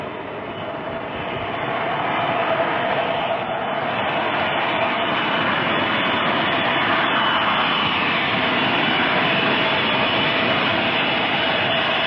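A Boeing 707 jet in flight, a loud, steady broadband roar of cabin and engine noise that swells slightly and holds constant throughout.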